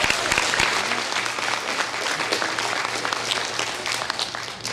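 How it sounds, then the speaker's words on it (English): An audience at a CATE completers program gives Mr. Wilson a round of applause, steady, full clapping from many hands that carries on evenly throughout with no voices over it. "Would you please give Mr. Wilson a round of applause?"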